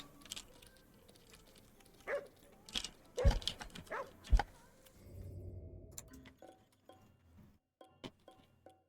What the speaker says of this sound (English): Maybe a stern dog?